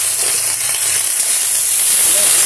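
Okra dropped into a pan of carrots and onions frying in oil gives a steady, loud sizzle and hiss that stays constant throughout, close up, with no talking.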